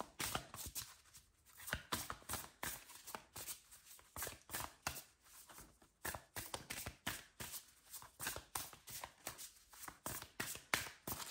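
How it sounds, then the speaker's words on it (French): A deck of oracle cards is shuffled on a slightly unstable living-room table, giving rapid bursts of riffling and slapping that repeat in quick, uneven clusters for several seconds, close and fairly quiet with no talking. "Allez, on va les mélanger et on va tirer une carte pour aller voir dans le livret."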